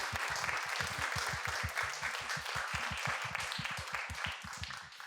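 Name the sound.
audience applause for speakers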